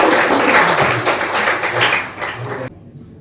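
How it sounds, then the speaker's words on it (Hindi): Audience applause for a family at a Hindi-language road traffic victims' tribute event, a dense wash of clapping from a crowd that carries steadily and then cuts off abruptly near the end. "इस परिवार के लिए दो जोरदार तालियां करिए"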